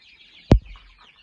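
Young chicks let out into the open during the day, a faint steady cheeping chorus with one brief, close thump partway through.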